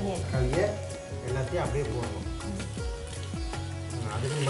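Chopped onions and tomatoes frying in a pan in a home kitchen, a soft continuous sizzle with occasional stirring, heard under a voice speaking.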